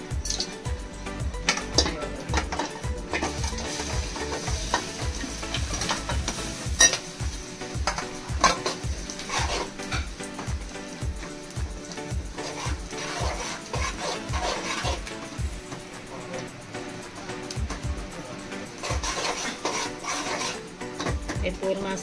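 In a pan, jaggery melts and is stirred with a utensil in a steady series of soft scrapes and clinks over a faint sizzle. A voice talks quietly at times.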